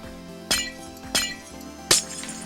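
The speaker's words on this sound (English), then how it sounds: "I'm gonna need to break those glass spots out there." Glass blocks shattering in Minecraft, three sharp crisp breaks spaced about half a second apart, close and clear over a faint steady background hum.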